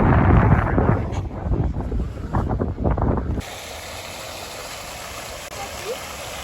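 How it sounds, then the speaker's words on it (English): Steady wind rushing against the microphone, a broad hiss and rumble that continues after a stretch of louder activity fades out. "Very windy again"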